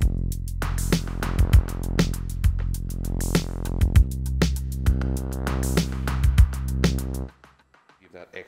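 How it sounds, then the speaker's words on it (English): Chopped snare hits triggered on an Elektron Digitakt drum machine, panned by an LFO, land in a quick, irregular rhythm against a sustained tonal bed for about seven seconds before cutting off to near silence. "I also have a little, you know, snare cut up and hit in the digitact as well."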